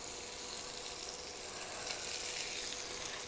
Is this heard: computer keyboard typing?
no